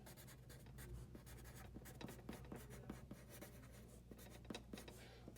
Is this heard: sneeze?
no